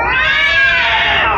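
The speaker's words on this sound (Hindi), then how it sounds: "वहां पर एक बिल्ली थी।" A cat in a horror story gives a loud, drawn-out meow, close and alone, with no speech over it.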